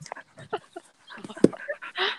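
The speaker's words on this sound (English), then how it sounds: "He's panting like a dog." A person breathes in quick, breathy, dog-like pants, a short run of rapid huffs and whimpery sounds with one sharper burst near the middle, close and fairly quiet, with no other talk.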